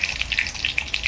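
Curry leaves crackle and spit in hot oil in a home kitchen, a brief close burst of rapid popping sizzle with no voices.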